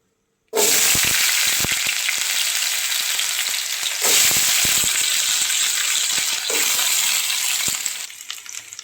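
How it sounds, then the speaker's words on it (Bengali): Cut potatoes drop into hot mustard oil in a nonstick wok with a sudden loud burst of sizzling that holds steady and close, punctuated by a few spatula scrapes and stirring knocks before easing slightly at the end. "এই সর্ষার তেল গরমও হয়ে গেছে এখন আমি এর ভিতরে দিয়ে দেবো কেটে রাখা আলুগুলো"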